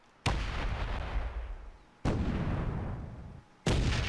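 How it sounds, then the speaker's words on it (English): Three heavy artillery shells from an orbital strike slam down in Space Engineers, each a loud booming impact that rolls off into a long rumbling decay, spaced about two seconds apart. "The new angled rounds are coming in."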